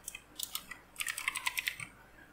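Someone types on a computer keyboard close by, with quick uneven bursts of keystrokes and a brief pause between runs, and no voices.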